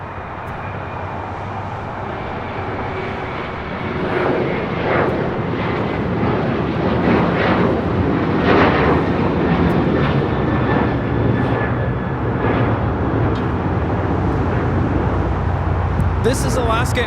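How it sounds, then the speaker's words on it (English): Alaska Airlines Boeing 737-900ER jet rumbling loudly on takeoff roll, the broad engine roar building after a few seconds and holding strong, with background noise beneath. "This is Alaska Airlines 1418 taking off to Guadalajara, a 737-900ER."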